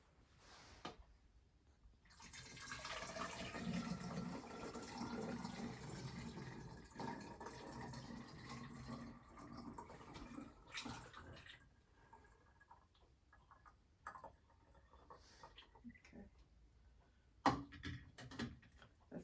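Water pours steadily into a measuring cylinder for several seconds, a continuous splashing trickle, close by, then tapers into a few small drips and clinks.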